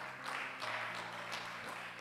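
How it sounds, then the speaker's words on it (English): A church congregation claps along during a service, a faint, steady spread of hand claps in rough bursts over low background hum, with no talk. "Give a hand clap to Jesus."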